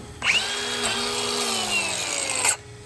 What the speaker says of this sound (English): I literally picked the same grinder up